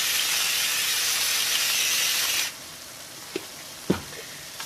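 Ground beef browns in a pan for stuffed pepper jack-o-lanterns, a loud steady frying hiss that drops off halfway, followed by a couple of soft utensil knocks.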